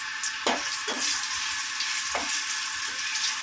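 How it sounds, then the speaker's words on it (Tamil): Tamarind sautéing in a hot pan for a mint chutney, a bright continuous sizzle broken by several sharp spoon scrapes and taps against the pan at irregular intervals, close up and with no voices. "இந்த புளியை வதக்கி எடுத்துக்கலாம்."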